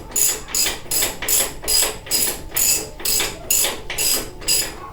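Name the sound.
adjustable wrench loosening a nut on a Shovelhead engine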